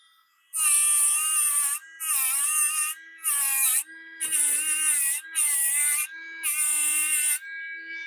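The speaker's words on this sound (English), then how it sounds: "I think a wire wheel will get that" Wire wheel on a power tool cleaning metal, a high-pitched whine in seven bursts of roughly a second each separated by short silences, loud and close with no voices.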